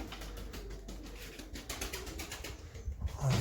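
Soft Dutch tumbler pigeon cooing sounds faintly amid outdoor background noise, with a low coo near the end.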